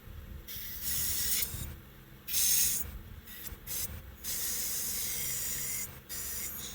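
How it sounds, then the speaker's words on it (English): Short bursts of compressed air blown through the carburetor of a Craftsman T1000 mower engine, each a sharp close hiss with brief gaps between them. "hey, we got compressed air now."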